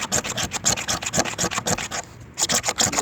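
A knife blade rasps repeatedly along a resin-rich fatwood stick, shaving off curls in quick, close, rhythmic scraping strokes, with a brief pause before the strokes resume.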